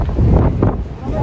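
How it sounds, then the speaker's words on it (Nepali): Strong wind blowing across the microphone at a village gate in mountainous Mustang, loud buffeting gusts in short bursts, with a voice partly heard under the roar. "हावा चाहिँ अति लागिरहेको छ है"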